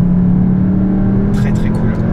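A 310 hp Cupra Formentor engine drones loudly and steadily under a constant low tone, with a brief burst of brighter noise near the end.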